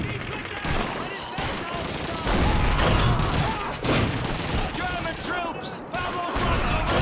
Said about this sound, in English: Yeah, I'm shooting.